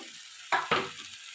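Eggplant is tipped into hot oil in a pan, two quick sizzling hisses over a faint steady frying background, close and brief.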